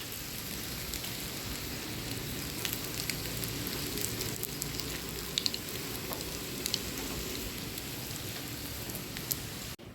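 Ragi paddu (ragi guliyappa) fry in oil in a pan, a continuous soft crackling sizzle with scattered small pops, moderately quiet and steady with no talking.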